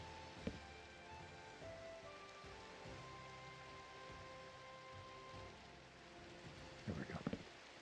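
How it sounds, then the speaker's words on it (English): Steady rain falls through the night in a Minecraft-style survival game while the player flies, a constant soft wash with a few brief louder bumps toward the end and no talk. "It's just depressing flying through the night in the rain."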